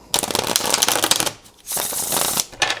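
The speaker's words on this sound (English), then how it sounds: "I'm shuffling aggressively." Tarot cards are shuffled hard and fast in two rapid riffling bursts with a short pause between, close and loud, with no voices.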